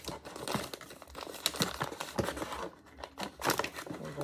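A package of gymnema powder is torn and opened with close, crisp bursts of crinkling plastic and rustling in irregular handfuls, no talking.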